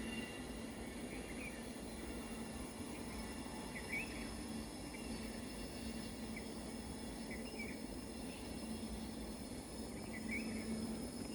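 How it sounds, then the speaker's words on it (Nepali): A faint, steady rumble of a distant Siliguri train approaching continues throughout, with occasional soft metallic squeals and no voices. "यहाँनिर ट्रेन आउँदैछ।"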